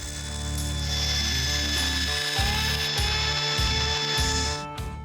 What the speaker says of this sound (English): I'll round off the edges over at the belt sander.